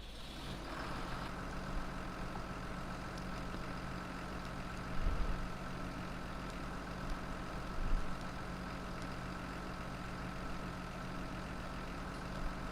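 An old International tractor engine in the Farming Simulator 19 video game runs with a steady, continuous low drone, heard from a distance, with a couple of small bumps in level and no talking.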